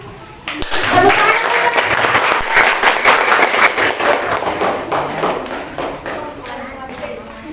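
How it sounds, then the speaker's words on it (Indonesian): A school audience at a grade 6 farewell ceremony claps loudly and steadily for several seconds, the dense applause tapering slightly toward the end, with voices mixed in. "Boleh tepuk tangannya?"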